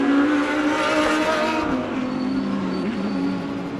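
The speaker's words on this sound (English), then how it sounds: "we see the Scribanti Lamborghini heading out of and down the main straight" A Lamborghini race car powering down the main straight of a circuit, its loud engine roaring close by and then falling in pitch as it pulls away.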